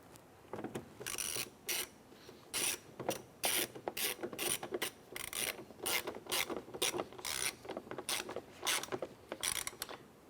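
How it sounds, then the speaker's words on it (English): Hand ratchet driving a screw into a 2006-2013 Chevrolet Impala driver side door during a window regulator replacement, a close, steady run of rapid clicking strokes in repeated bursts with brief gaps. "Just going to install our screw here."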